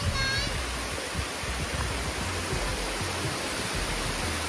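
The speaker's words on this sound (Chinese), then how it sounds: "旁边就有一个小瀑布" Small waterfall beside a wooden boardwalk in the mountain forest of Taipingshan, Yilan, producing a steady, close rush of water with a faint voice now and then underneath.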